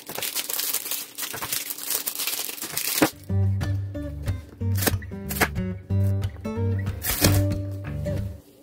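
Kinder Bueno chocolate bars being cut in a home kitchen, a crinkle of wrapper followed by a series of distinct knife chops and thunks on a board, irregularly spaced and close.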